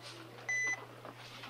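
A single sharp electronic beep from a checkout scanner at a shop till, lasting about a quarter second, rises clearly over a steady low hum and quiet store background.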